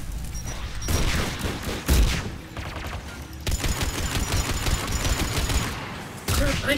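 Heavy gunfire shooting down missiles in Mass Effect 3 Legendary Edition during a Geth Dreadnought battle, loud sustained bursts with booming impacts and abrupt cuts between intense firing and brief lulls.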